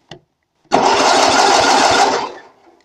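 A freshly painted tractor engine with a new coil cranks and catches, running loud and rough for under two seconds before cutting out, after a brief click beforehand.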